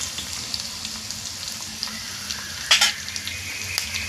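Onion frying in a pan for veg chow mein gives a steady, fairly quiet sizzle with light stirring scrapes and one brief louder crackle burst, no voices present.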